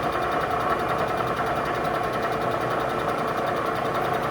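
A Bridgeport milling machine takes an extremely light cut at about 575 RPM with a slow feed near 7 inches a minute, giving a steady, close mechanical whir and hum without pause.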